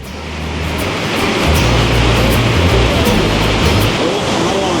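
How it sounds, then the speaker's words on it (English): Largest waterfall in Europe roaring close by, a loud, steady rush of heavy falling water with a deep low rumble that swells slightly and holds without a break. "Welcome to the largest waterfalls in Europe."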